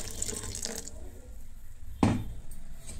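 Water is poured into oats chilla batter, a brief splash and trickle that stands out from quiet kitchen background noise midway through.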